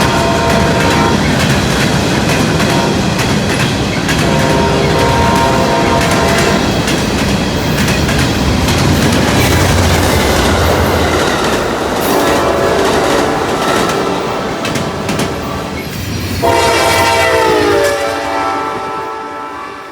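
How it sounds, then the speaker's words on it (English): An Amtrak passenger train led by a P42DC locomotive passes close and loud, its wheels clattering in a continuous rolling roar, with horn-like tones sounding near the end as it fades. "this Amtrak was a special Amtrak because it had a P42 DC at the helm and no new charger coaches"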